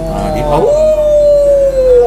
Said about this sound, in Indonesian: Jadi anjing ini tidak menggonggong tapi melolong Pak